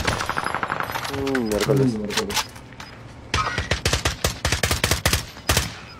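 Video game gunfire: rapid bursts of machine-gun shots, loud and close, with a voice speaking Spanish during a brief lull.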